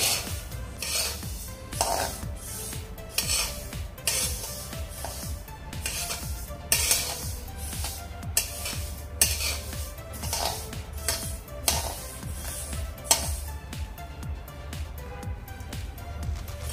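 Sesame seeds dry-roasting in a pan for til-gul chikki, stirred with a spatula in steady rhythmic scrapes and rasps against the pan's surface, close-up and with no voices.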